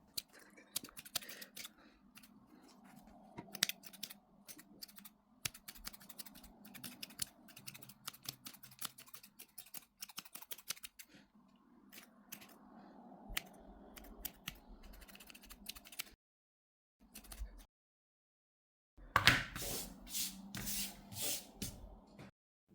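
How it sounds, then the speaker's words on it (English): Scissors snip around a yarn pom-pom for a crochet winter hat, giving quick, irregular close-up cuts in clustered bursts with short pauses, fairly quiet throughout and ending in a louder flurry after a brief silence. "And now start trimming to shape it into the circle."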